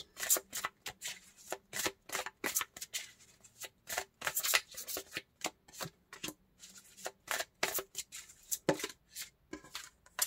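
Tarot cards being shuffled in quick, crisp bursts of riffling and slapping, close and dry, repeating in irregular clusters across the whole stretch with short pauses between.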